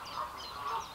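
A bird honks nearby twice in quick succession beside a lake, goose-like calls, fairly faint and clear with no talking.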